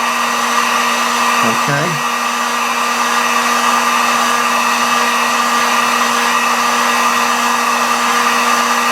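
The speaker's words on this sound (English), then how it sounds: "you take your heat gun and you heat it really close to the metal badge" Heat gun blowing steadily close to a metal badge on a Marshall amp, a constant loud whooshing hum with a faint tonal whine, a brief word spoken early on.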